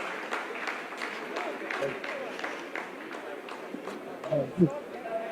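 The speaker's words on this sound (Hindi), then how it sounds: "आप इस तालियों के गड़गड़ाहट को सुन सकते हैं" Scientists in mission control applaud during the Chandrayaan-3 lunar landing, a steady wash of many hands clapping throughout with voices mixed in and a brief louder burst near the end.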